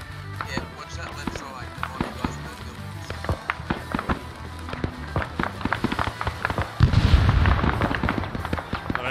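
Artillery rounds landing and exploding in the ARMA 3 military video game, heard as scattered sharp blasts and cracks throughout, with a louder, heavier rumbling burst near the end as people talk over the action.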